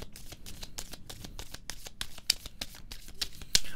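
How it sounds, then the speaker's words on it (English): Tarot deck being shuffled by hand during a card reading, a fast run of close, crisp riffling flutters in steady rhythm, ending with a sharper snap. "I'm going to pull another outcome card."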